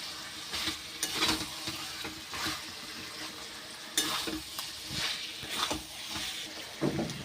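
Chicken being stir-fried in an open pan after simmering, steady sizzle with irregular scraping strokes of a utensil against the pan, fairly quiet and close, no talking.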